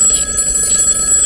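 A phone's bell ring sounds continuously and loudly, a sustained electric ringing with no voices over it.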